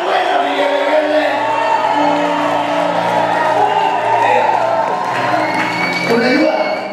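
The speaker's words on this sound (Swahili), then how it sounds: "Nasema wapi shangwe na vigelegele?" Wedding guests cheer and ululate as a loud, dense crowd roar that holds steady throughout, with voices blending into the sustained din.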